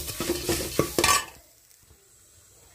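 Poha halwa with grated coconut stirred in a pan: a quick run of scraping, clattering strokes for about a second, then near silence with faint background hiss.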